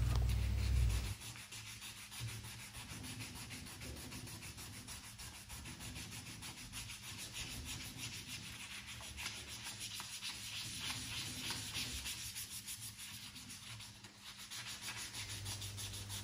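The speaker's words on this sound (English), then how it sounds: "now just use your fingers and sand the rest of the triangle" Fingers rubbing sandpaper over an alloy car wheel to prep it for painting, a steady soft scratchy sanding that continues throughout, close and quiet, with no voices.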